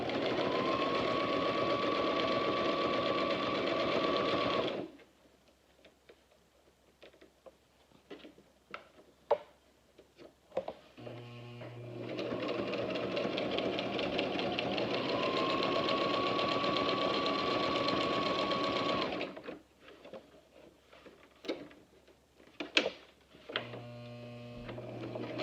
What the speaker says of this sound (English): I'm going to go ahead and sew, not cut.